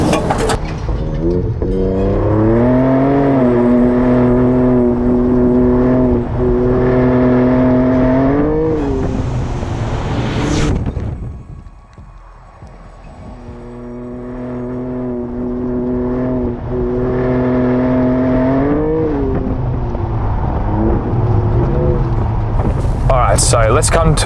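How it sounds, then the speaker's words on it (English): A 2023 Ford Raptor in Baja mode with anti-lag turbos, its engine rising through loud revving pulls, dropping away briefly mid-clip, then climbing again; a strong harmonic drone with someone talking over it. "Baja mode is that it actually has anti-lag, so the turbos will keep spinning for when you need to jump straight back on that power"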